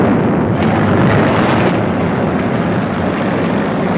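A downed warplane amid wartime combat over the Moscow front: a loud, dense, continuous roar of aircraft noise and blast rumble filling the whole moment, harsh and close.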